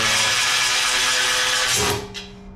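A power tool runs loud and close while bolting a part onto a Prius-powered R56 Mini, giving a continuous whirring drone that winds down abruptly near the end.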